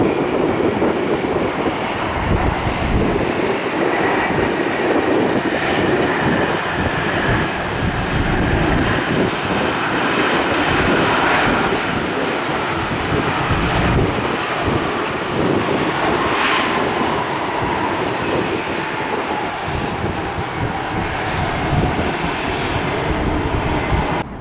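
A Boeing 767 jet in NYPD livery at Tampa airport gives a loud, steady engine roar that stays close and continuous throughout, with no voices.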